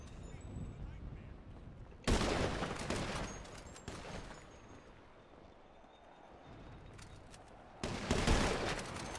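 Gunfire in the video game GTA V during a duck-hunt match: two loud bursts of shots, one near the start and one near the end, with quieter game noise between.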